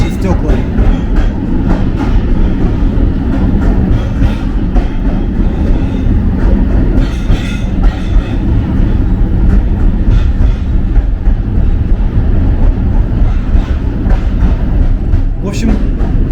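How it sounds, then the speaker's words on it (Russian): Electric commuter train rattling loudly in the vestibule on a ride through Kyiv, a continuous heavy rumble and clatter with rhythmic wheel clicks, loud throughout with faint voices underneath. "Конечно, в Тамбуре сильно гремит поезд"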